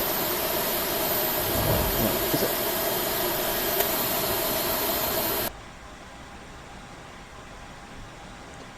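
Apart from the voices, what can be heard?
A320 jet engine starting up in video game Flight Simulator X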